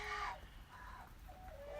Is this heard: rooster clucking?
yes